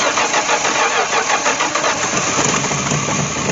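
A 1967 Dodge Dart's Slant 6 engine, revived after more than ten years in a junkyard, runs loud and close with a steady, rough rumbling roar throughout.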